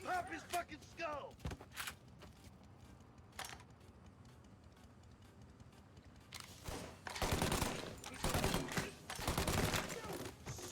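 Rifle gunfire in the crime game Mafia: Definitive Edition, sharp isolated shots early on that build into loud, rapid bursts of fire in the later half, with shouted voices between them.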